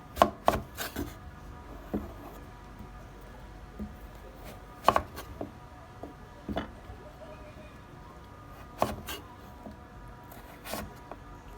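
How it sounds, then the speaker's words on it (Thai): Knife chopping carrots into pieces on a board, heard as sharp, irregular close-up chops with several quick strikes and longer pauses between them, with no talking. "หั่นแครอทให้เป็นชิ้น"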